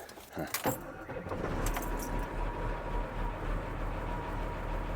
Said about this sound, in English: Should I fire up the truck?